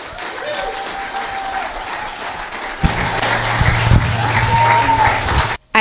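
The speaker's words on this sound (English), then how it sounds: "let's do a big round of applause for Jeri Schlickbernd" Live event audience breaking into applause to welcome a speaker onto the stage: steady, dense clapping that swells and holds for several seconds with a low hum underneath, cutting off abruptly at the end.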